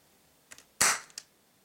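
A TSD Sports 1911 CO2 non-blowback airsoft pistol fires a BB with one sharp, close snap, followed by faint clicks and a small tick as the shot hits.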